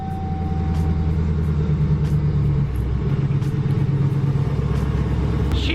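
Corvette engine rumbling unevenly as it struggles at startup, a loud low idle with a wavering, pulsing rhythm that stays close for several seconds.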